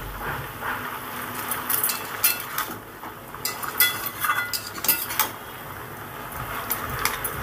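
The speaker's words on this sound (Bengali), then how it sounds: "ভালো করে একটু নেড়ে চেড়ে দিলাম" Metal spatula scraping and clinking against a pan while stirring gourd stem greens with boiled potatoes and turmeric, a steady run of close, irregular clatters and scrapes with no talking.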